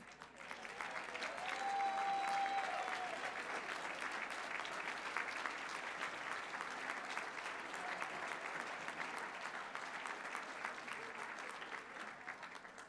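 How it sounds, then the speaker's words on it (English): Sustained applause from an audience at a Rotary club centennial celebration, a dense, even patter of many hands clapping that continues for over ten seconds at moderate distance. "I'm not sure why you clapped for Jack Herrig"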